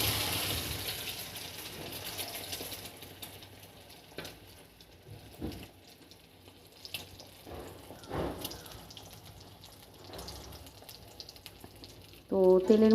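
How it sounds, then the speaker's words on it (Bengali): Eggs frying in hot salted oil in a wok, a continuous soft sizzle and crackle with scattered spatters and a louder clatter near the end, no speech. "তো তেলের মধ্যে দেখো আমি এখন দিয়ে দিয়েছি সব ডিমগুলোকেই, কিন্তু আমি সুন্দর করে লাল লাল করে ভেজে নেবো"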